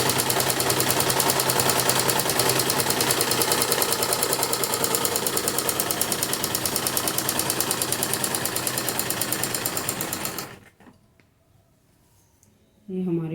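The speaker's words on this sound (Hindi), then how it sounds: "तो हम अपनी बाजू की सिलाई लगाते हैं।" A sewing machine runs a long, even stitch on a kurti sleeve, its rapid rhythmic clatter loud and close, then it stops abruptly and a short quiet follows.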